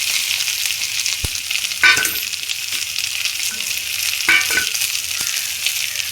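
Shallots frying in hot oil with mustard seeds, fennel and curry leaves for a squid curry, a close bright sizzle with brief louder bursts of crackling as ingredients hit the pan.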